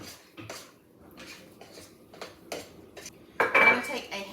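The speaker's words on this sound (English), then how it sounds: "I'm going to take a large spoon and kind of just stir it around because it's getting so thick." A large spoon scraping and knocking against a mixing bowl while stirring thick ricotta cake batter, a series of sharp, close clinks spaced irregularly, ending in a louder scrape.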